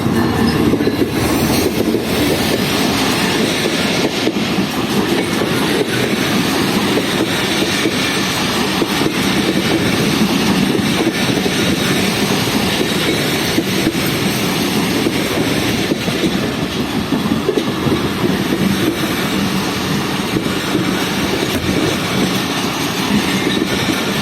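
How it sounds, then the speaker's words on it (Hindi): The Hazara Express passenger train rolls into Digri Road Junction station with a loud, continuous rumble, rhythmic wheel clatter and occasional squealing wheels, close by and steady throughout. "ट्रेन पहुंच रही है डिगरोड जंक्शन रेलवे स्टेशन पर"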